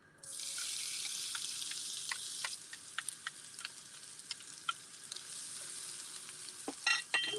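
Onions are sautéed in a pan while cooking Sunday dinner, producing a continuous bright sizzle. Scattered pops and crackles run through it, and a louder clatter comes near the end. No voices are heard.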